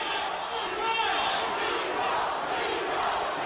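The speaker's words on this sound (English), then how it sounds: "The crowd is doing the Rocky thing, but just chanting Nico." A fight crowd at an Icon 41 MMA bout chants a fighter's name, a dense, loud, sustained roar of many voices filling the arena without pause.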